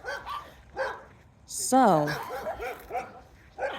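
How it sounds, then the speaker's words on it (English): A dog barks and yelps a few times close by, including one sharp high whine, while someone talks over it. "Sorry about the dogs."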